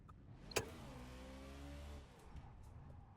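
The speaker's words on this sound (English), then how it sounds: "So let's get that car started back up." A NASCAR stock car in rFactor 2 cranks and fires back up after a spin, with a sharp click followed by a steady low engine drone that rises and settles, fairly quiet and alone.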